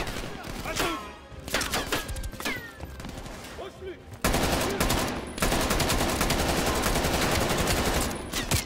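Rapid gunfire in Call of Duty: Black Ops Cold War, with bursts of shots that build into sustained loud automatic fire in the second half, under occasional talk.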